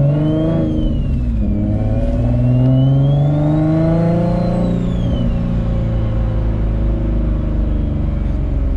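Turbocharged Infiniti G35 coupe making 883 wheel horsepower on a full standalone ECU, engine loudly revving and accelerating with rising then falling pitch and a whining turbo spool, close and sustained.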